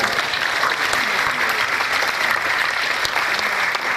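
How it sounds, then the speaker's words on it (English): Conference audience applauding the panelists at the end of a tech convention session, continuous full-room clapping, even and sustained throughout, with no voices standing out. "maybe a round of applause for the panelists"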